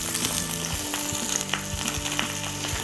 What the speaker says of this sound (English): Now we're going to take our snapper, skin side down.